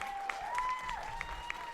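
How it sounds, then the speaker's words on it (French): Gala audience claps for Bollywood dancers, a steady, moderately faint patter of applause with a few sharper claps standing out over a held musical tone. "applaudissez-les encore bien fort"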